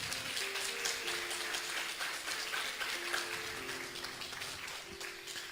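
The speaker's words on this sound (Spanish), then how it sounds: "Denle un aplauso al Señor en esta mañana." A church congregation applauds during a Spanish-language service, a steady wash of clapping that runs throughout, with sustained musical tones held underneath.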